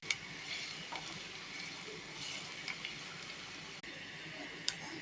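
Beetroot stir-fries in a pan, giving a faint, continuous sizzle with occasional light clicks and scrapes of stirring.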